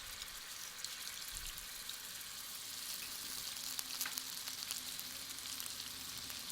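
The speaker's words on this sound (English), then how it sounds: "Into my oil, I'm going to first put my garlic paste." Garlic paste dropped into about a tablespoon of hot oil, a soft, continuous sizzle and hiss at low volume, with no talk.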